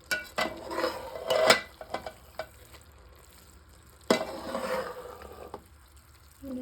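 Okra masala is stirred in a cooking pan, with bursts of spoon scraping and clatter against the metal over a low sizzle, in two separate rounds of mixing.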